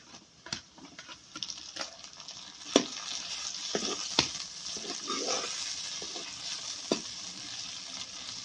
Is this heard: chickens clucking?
no